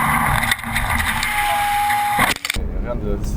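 A roadster's engine, mounted directly behind the seats, drones steadily and loudly close by, running continuously before dropping out briefly near the end.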